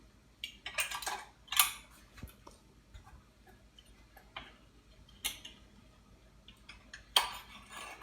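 Two-inch binder clips are handled and clamped onto a bundle of eco-printed leaves, giving several sharp metallic clicks and snaps spaced irregularly over faint room quiet, with no voices.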